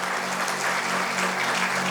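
Applause from a church congregation at a Bible talk: a dense, even wash of clapping that holds steady for about two seconds with no voices over it.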